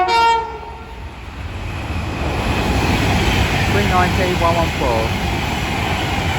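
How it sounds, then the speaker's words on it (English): An Avanti West Coast express from London Euston to Glasgow Central passes through Milton Keynes Central, a loud rushing roar of wheels and wagons that builds after a brief station announcement and carries on with some squealing tones. "Soon to pass through now will be Avanti West Coast service going from London Euston to Glasgow Central."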